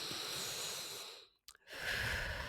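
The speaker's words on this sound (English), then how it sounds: "let's go ahead and take a breath with me" Slow guided breathing: a long, soft airy inhale fading into a brief pause, then a steady breathy exhale, close and quiet with no talking.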